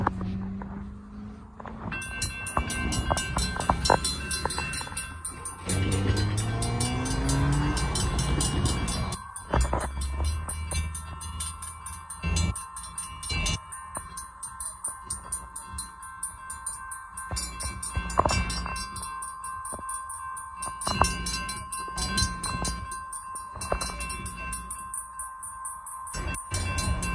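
Freight switching local locomotive of the CFNR, units 2269 and 502, moving at a road crossing in Woodland, a steady loud rumble of engine and rolling railcars with a sustained tonal ring throughout and heavier clanks early on.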